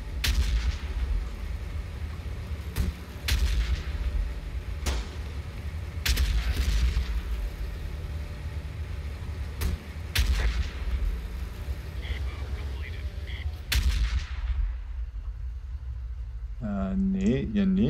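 Gunfire and artillery from the Close Combat: The Bloody First war game sound as repeated sharp cracks and heavy booms at irregular intervals over a constant low battle rumble, with someone talking at times.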